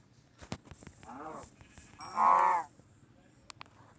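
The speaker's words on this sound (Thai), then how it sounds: "แถวนี้มันแกะเยอะจังวะ" Sheep bleating in Minecraft Pocket Edition, heard as two wavering cries close together, the second louder and longer, with soft clicks and taps around them.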